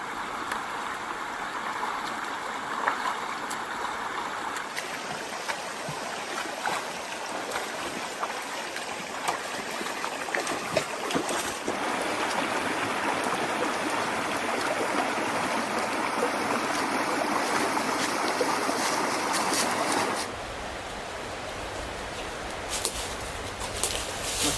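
Creek water flows steadily at a crossing on Garden Creek, a continuous broadband rush and trickle that stays fairly constant throughout, with faint birdsong above it.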